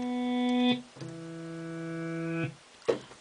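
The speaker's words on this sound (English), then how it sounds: "sample of the reversed clean guitar" Reversed clean guitar sample played on a Roland V-Synth XT, heard as two swelling tones that grow louder and then cut off abruptly, with a brief click at the end.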